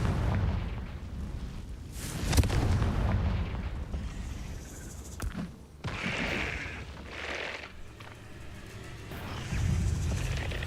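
A Confringo fire spell blast in the game Hogwarts Legacy, a series of booming explosions and fiery bursts with rumbling low impacts, fairly quiet overall.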